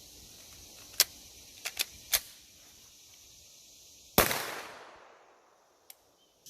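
An FN 509T pistol fitted with a Delta-Tek flash hider fires a single sharp, loud shot that rings out and decays outdoors, preceded by a few small clicks and followed by a faint tick.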